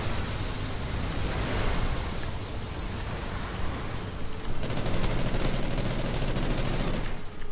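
Dense gunfire from Call of Duty Ghosts online multiplayer, a continuous loud roar of rapid shots and blasts that shifts to harsher, sharper firing partway through.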